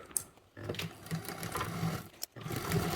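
A sewing machine stitches a vinyl bag in a fast, dense mechanical chatter that runs continuously, broken by two brief pauses, close and loud with no talking.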